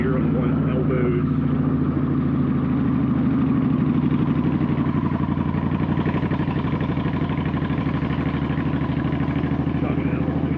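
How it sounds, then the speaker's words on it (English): A Yamaha V-Star 1300 motorcycle lugs along at low revs in third gear, its V-twin engine giving a deep, steady, throbbing chug that runs continuously under road and wind noise. "Chugging it along in third gear"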